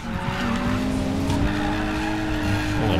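An Audi skids sideways through a mountain serpentine in Need for Speed Payback, with a sustained loud tire squeal over the steady engine tone.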